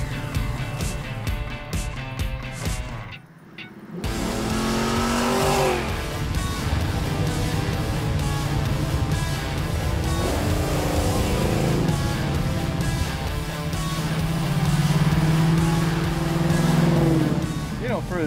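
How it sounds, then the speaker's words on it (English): A V8-powered Corvair drag car rumbles loudly nearby, cutting out briefly before its engine revs up again in repeated rising surges over a heavy idle, while people talk over it. "don't sound like any Corvair I ever heard"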